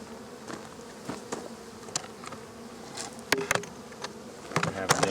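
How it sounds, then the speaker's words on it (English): Honeybees from a queenless hive buzz and drone continuously close by, with individual bees zipping past the microphone in repeated louder swells. "Just a bunch of bees flying around not knowing what to do"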